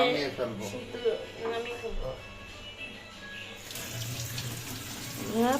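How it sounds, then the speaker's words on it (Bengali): A kitchen tap runs in a steady, close stream, a continuous watery hiss while people talk over it. "পানি ছেড়ে দিয়েছি"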